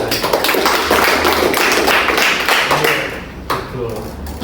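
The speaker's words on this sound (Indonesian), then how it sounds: "kita beri tepuk tangan untuk Erlangga dan Dapat" A group gives a round of applause for students during a school group counseling session, with dense overlapping claps, steady and fairly loud, while voices mix in underneath.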